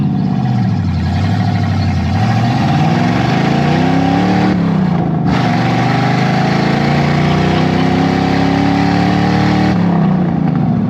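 A car engine that had been smoking at startup idles and revs near and loud for about eleven seconds, its pitch wavering and briefly stumbling and dropping out once midway before picking back up, with no talk over it.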